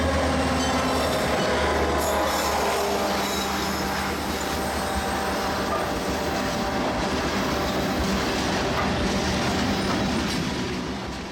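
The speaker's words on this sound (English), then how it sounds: "I caught yet another New Orleans to Waycross train" Freight train Q602, running New Orleans to Waycross, rolls past at Folkston, Florida with a loud, continuous roar of rail cars, clicking wheels and some wheel squeal, sustained close by throughout without speech.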